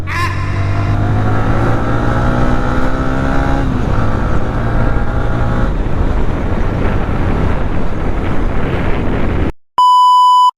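A road vehicle accelerates, its engine note climbing steadily and then settling into a loud, continuous roar. After a brief drop to silence, a sharp electronic beep sounds at the very end.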